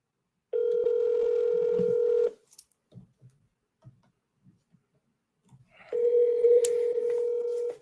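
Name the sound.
telephone dialing tones for a cold call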